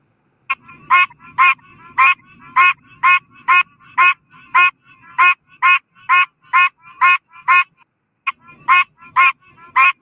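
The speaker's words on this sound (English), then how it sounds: "These pine barren tree frogs quack or honk like a goose." Pine barrens tree frogs give a steady run of about twenty loud, goose-like honks, evenly paced with one short pause, played back alone with no talk.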